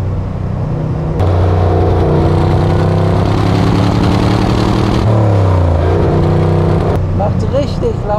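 A 1972 De Tomaso Pantera with a 5.8-litre V8 while driving, a loud, close engine drone that rises and dips in pitch with gear changes.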